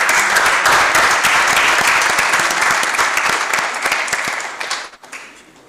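Loud, dense applause from a seated audience at a youth council launch session, a steady wash of many hands clapping that swells briefly and then tapers away toward the end.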